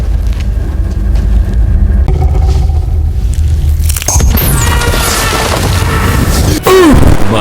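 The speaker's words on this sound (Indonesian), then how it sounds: "apakah Adul bisa selamat dari ledakan" An explosion tears through the ruins of an old temple: a loud, sustained low rumble and boom fills the space, then shifts midway into crackling debris with sweeping whooshes and a final heavy thud, with no voices.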